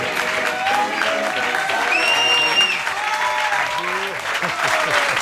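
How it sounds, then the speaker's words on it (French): A studio audience applauds a guest being welcomed on a New Year's special television show, with loud continuous clapping throughout and warbling whistle-like tones and voices rising over it. "je vous demande d'applaudir Monsieur Philippe Chevalier"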